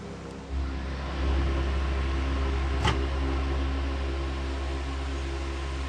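A steady appliance hum with a low drone and faint whirring runs throughout, a small click partway through, no voices.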